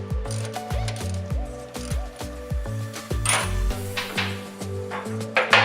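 Nuts and bolts come off the sway bar of a C5/C6 Corvette as a power tool whines in short, repeated pitched bursts, mixed with metallic clinks and ratcheting, close and fairly loud.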